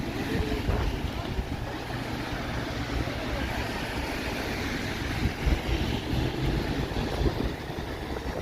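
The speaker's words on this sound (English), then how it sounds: "You can't have any precipitation without wind, right?" Wind gusting through Toronto streets on a Thursday evening during a rain and snow mix, a steady broadband roar with buffeting on the microphone throughout.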